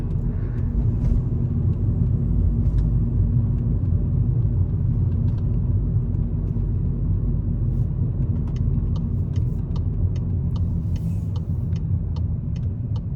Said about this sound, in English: Then the engine goes back to normal mode.